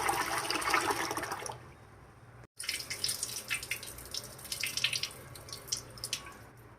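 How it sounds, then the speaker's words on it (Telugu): Toor dal (pigeon pea lentils) being rinsed by hand in water, a steady splashing and sloshing that stops abruptly after about a second and a half, then resumes with lighter trickles and drips close by. "ఒక కప్పు కందిపప్పు తీసుకుంటున్నానండి. దీన్ని శుభ్రంగా కడుక్కోవాలి 2-3 సార్లు."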